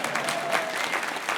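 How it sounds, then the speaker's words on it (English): Live studio audience applause at a radio show, a brief, full burst of many people clapping together, steady and fairly loud with no speech over it. "That deserves a round of applause."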